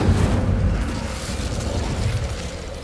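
Incendio fire spell cast in Hogwarts Legacy, a deep rumbling whoosh of flame with low booming body, loud and sustained for a few seconds without speech.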